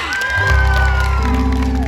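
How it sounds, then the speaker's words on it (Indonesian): An outdoor audience at a Bondres comedy show for the Bangli city anniversary in Bali cheers and whoops loudly, with sustained shouting voices swelling after a brief quieter start and holding strong to the end. "Tunjukkan Bangli yang hebat, tepuk tangannya yang meriah"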